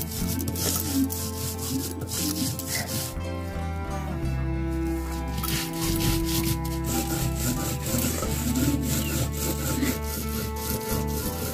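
Coriander and spices are ground by hand with a steady rubbing motion, giving a continuous, close scraping and grating sound with rhythmic strokes throughout.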